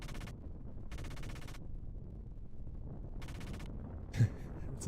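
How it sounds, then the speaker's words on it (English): Short bursts of rapid gunfire from a big mech in the Xenogears video game, three or four separate volleys that sound thin and weak, with a low hum between them and a brief thud near the end. "Weak sounding gunshot for a big mech."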